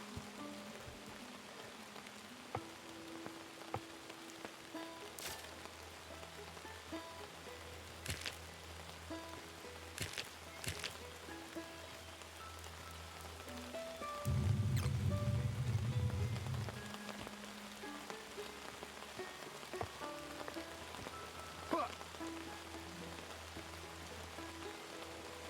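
Rain falls steadily outdoors on a mountain campsite, a soft continuous patter on surfaces with occasional louder drips and a brief low rumble partway through.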